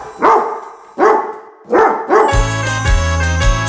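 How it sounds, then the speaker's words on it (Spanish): A cartoon dog in the La Granja de Zenón farm game barks three times in an even rhythm, loud and near, before bright music with a steady beat starts up. "El perro hace wow, wow."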